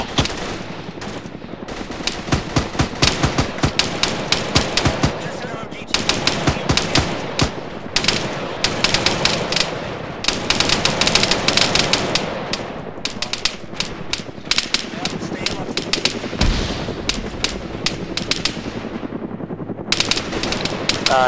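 Sustained bursts of automatic machine-gun return fire in the military shooter Arma 3, loud and close, with rapid rattling volleys broken by brief gaps and overlapping shots throughout.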